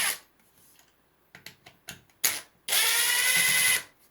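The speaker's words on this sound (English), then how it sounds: "Got to get all the screws out of it." A stud sensor casing being opened, with a few short clicking ratchet-like bursts from a screwdriver backing out screws, then a sustained loud whirring-grinding burst lasting about a second, close up and without talk.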